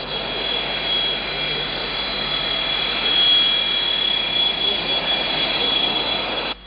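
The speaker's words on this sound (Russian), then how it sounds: "Самолет из Москвы приземлился в аэропорту Грозный ровно по расписанию" An airliner from Moscow lands at Grozny airport, its jet engines giving a steady broadband roar with a faint high whine that holds evenly at moderate loudness before cutting off.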